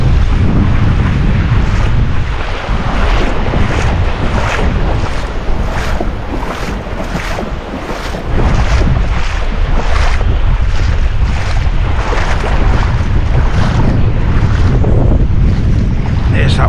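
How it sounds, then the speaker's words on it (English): Strong wind blowing across open water during bass fishing, buffeting the microphone with a loud, continuous roaring rush and gusty surges, waves and boat noise mixed in. "There's that wind."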